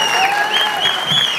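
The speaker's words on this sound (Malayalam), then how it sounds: "ഒരു നല്ല കൈയടി ഈ അംഗമാനുള്ളവരുടെ ഒരു സപ്പോർട്ടോടെ" Audience applause at a film audio launch event for Welcome To Central Jail, a dense, steady wash of clapping from a large crowd filling the whole short stretch at even loudness.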